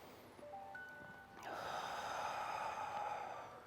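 A single forceful cleansing breath from Shaolin power qigong practice is pushed out in a long, airy rush partway through, fairly close but quiet, after a calm lead-in.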